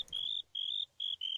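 Minecraft grasshoppers chirp in a series of shrill, high buzzing trills, four or five bursts separated by short gaps, close and loud with no talk.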